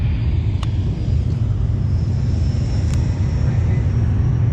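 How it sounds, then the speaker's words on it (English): Low rumbling roar of an airplane passing low overhead a lake near Dallas, heard from a jon boat; a steady, loud, broadband drone with no speech. "I could feel the ground shaking from that plane."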